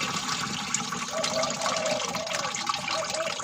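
Ten litres of water pouring into a pesticide mixture made with seasoning powder for a cha-om garden, a steady close rush and splash of liquid that runs the whole time.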